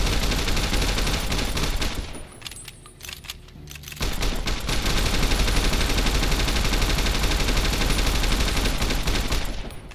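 Mounted turret guns in Fallout New Vegas fire dense, loud bursts of automatic gunfire, pausing briefly and then resuming in a sustained barrage.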